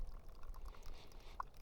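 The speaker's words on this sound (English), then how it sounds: "I'll pour the rest of this, which is probably another 2 ounces" Coffee poured into a cup outdoors at a campfire during an overnight backpacking trip, a short soft steady stream of liquid over low background rumble, close and fairly quiet.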